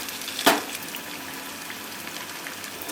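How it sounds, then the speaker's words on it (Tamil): Small pieces of rice and potato snack deep-frying in hot oil, a soft steady bubbling hiss after a brief sharp splash as a piece drops in. "எண்ணெயில் ஒரு வாட்டி ஃப்ரை பண்ணிக்கலாம். இதுமாரி ஃப்ரை பண்ணிக்கோங்க."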